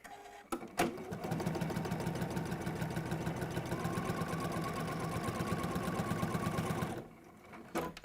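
Sewing machine stitching across fabric pieces, a steady close whirring drone with fast regular needle clatter lasting about six seconds, starting after a couple of clicks and stopping abruptly.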